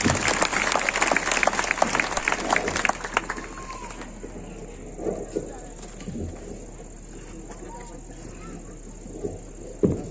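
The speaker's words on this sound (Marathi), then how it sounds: "सर्वांनी एकदा जोरदार टाळ्या वाजवायच्या आहेत" A crowd at a large Hindu religious gathering claps loudly and steadily, the applause thinning out after a few seconds into scattered claps and light background noise.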